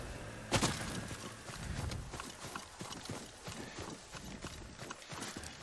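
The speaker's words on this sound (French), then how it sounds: "Tu es un bon cheval, Sora." Horse hooves clip-clop in a steady walking rhythm in the video game Ghost of Tsushima, fairly close, after a sharp knock near the start; no talking.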